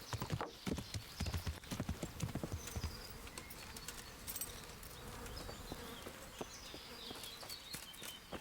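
Horse hooves clip-clop steadily in the Kingdom Come Deliverance video game, a close, continuous rhythmic clatter over a quiet outdoor ambience with buzzing insects.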